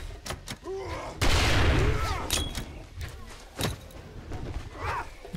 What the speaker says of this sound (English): Grenade on the roof.